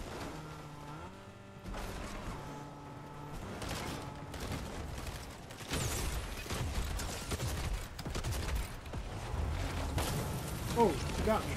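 Gunfire in a video game crackles in rapid bursts through the second half, loud and dense, mixed with vehicle rumble and other game noise after a calmer, tonal opening.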